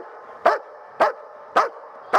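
A dog gives four sharp, evenly spaced barks, loud and close, with a steady low hum running underneath.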